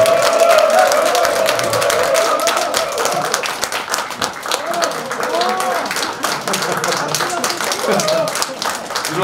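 A lecture audience claps steadily in a hall for a speaker, dense applause mixed with crowd murmur and voices talking over it.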